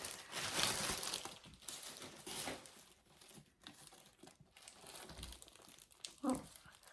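Close crinkling and tearing of paper or plastic packaging around a Dooney & Bourke Florentine handbag in chestnut, with steady rustling bursts over several seconds and a faint voice at moments.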